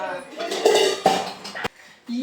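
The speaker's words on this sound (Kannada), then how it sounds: "ಕಿಚನ್ಗೆ ಬಂದೆ ಕ್ಲೀನ್ ಮಾಡೋಣ ಅಂತ. ಇನ್ನು ಪಾತ್ರೆ ಎಲ್ಲ ತೊಳೆದಿಲ್ಲ." Pots, pans and cutlery clatter and clank in a home kitchen as unwashed dishes are cleared during cleaning, with several sharp knocks and a voice speaking over the clatter.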